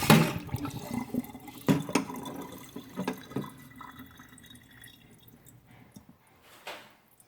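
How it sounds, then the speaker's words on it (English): Water splashes and drips as liquid is poured out, with a few louder spills early on tapering to quiet trickles and a final small splash. "all I'm gonna do is empty out the water"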